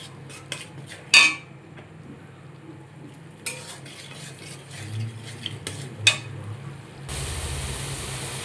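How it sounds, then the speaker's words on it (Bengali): Spices being stir-fried in a pot for ghugni, heard as scattered metal spatula scrapes and clinks over a low, quiet sizzle, ending in a steadier hiss. "এবার মশলাটা আমি ভালো করে কষিয়ে নেব"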